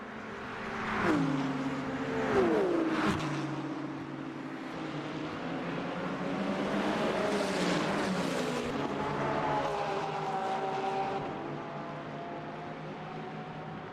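A Ferrari and a BMW race car run side by side at Le Mans in the Le Mans Ultimate game, their engines droning steadily with rising and falling pitch through gear changes, loud and continuous with no talk.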